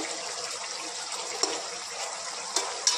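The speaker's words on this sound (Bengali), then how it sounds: "এবার একটু হালকা জল দিয়ে দেবো, উষ্ণ গরম জল।" Warm water being poured into a pan of pui shak (Malabar spinach): a continuous close splashing, gushing stream, steady and fairly loud, with a few faint clicks and no talking.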